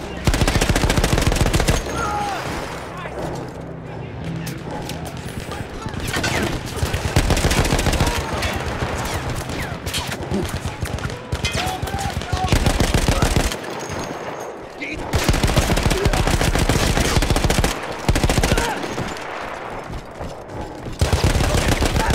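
Sustained heavy machine gun fire from a mounted gun in Battlefield 1, loud and continuous with brief pauses between long bursts, amid battlefield noise.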